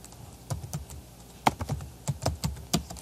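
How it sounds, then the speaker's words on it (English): Keys tapped on a computer keyboard in uneven bursts, with single clicks and short runs of strokes, close and fairly quiet with no talking. "I can type text in here if I want."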